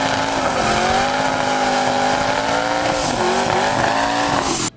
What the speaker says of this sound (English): It's a 430 cubic inch Texas Speed LS motor with twin Garrett Gen 2 turbochargers.